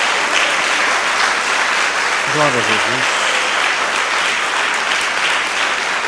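A church congregation claps in a loud, sustained round of applause that fills the room, while a voice briefly calls out over it partway through.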